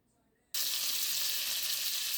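About two tablespoons of butter dropped into hot olive oil in a Staub Everything Pan, bursting into a loud, dense, continuous sizzle after a quiet moment.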